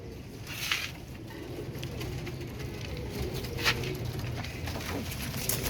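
Royal Teddy pigeons cooing softly nearby over a low rumble, with occasional wing flutters and light pattering.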